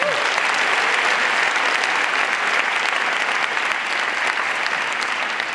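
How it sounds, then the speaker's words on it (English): Large audience applauding at a summit: dense, steady clapping that stays loud and close for the whole stretch, with no voice over it. "so give them a big round of applause for that."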